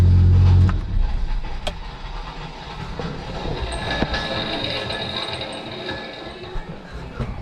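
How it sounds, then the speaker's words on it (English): A rough, rattling Nissan Patrol 4x4 engine with a worn turbo idles close by, with a steady mechanical whir and intermittent clanks and ticks, loudest at the start. "the turbo's a bit cooked, as you'll hear"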